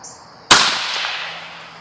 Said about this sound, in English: the first 10 shots, guys, are going to be with the CCI Maxi Mag 40 grain hollow point